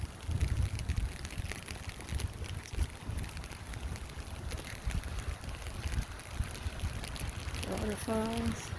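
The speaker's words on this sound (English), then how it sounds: "Waterfalls." A harbor-side waterfall pours in a continuous broadband rush on a rainy day, mixed with wind buffeting the microphone, and a person starts talking toward the end.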